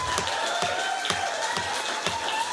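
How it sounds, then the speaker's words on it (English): An audience at a Hermosa Beach city council special meeting applauds with loud, rhythmic claps in a steady beat, mixed with crowd noise and a whistle-like tone. "I've got to implore you, please, no applause"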